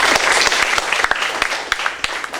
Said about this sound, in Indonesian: Tepuk tangan untuk Pak Kusnu.